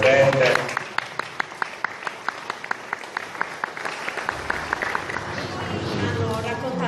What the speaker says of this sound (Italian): Un applauso anche a Rosa Ballecca che è presente.